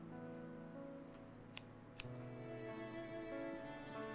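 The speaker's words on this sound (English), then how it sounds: "Aspen cuts through the ribbon in a single snip" Scissors snip through a ribbon at a ceremony in a video game, two quick sharp clicks close together over quiet, sustained background music.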